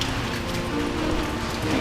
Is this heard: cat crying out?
no